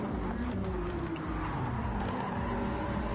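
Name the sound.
race cars on track in video game Gran Turismo, Dragon Trail Seaside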